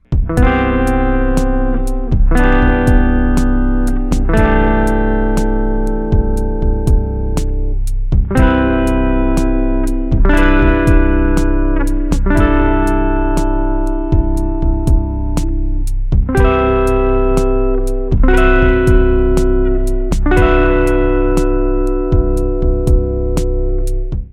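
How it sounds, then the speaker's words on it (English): Electric guitar strums a sustained jazzy major seventh chord, then varies it repeatedly by swapping in different color tones on top, each voicing ringing out in a steady, unhurried sequence. "Here's an example of a major 7 chord, and I'm gonna swap in and out those different color tones"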